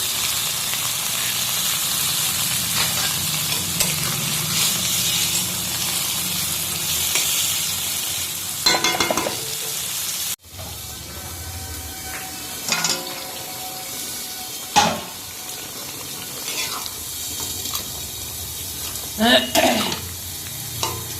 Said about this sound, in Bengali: এই যে এবার একটু জল দিয়ে কিছুক্ষণের জন্য ভেজে দেবো, তাহলে সবজিগুলো সিদ্ধ হয়ে যাবে।